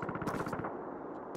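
Rapid automatic gunfire from a gun in Call of Duty 2, a loud burst of quick shots that cuts off after about half a second, leaving a fading echo.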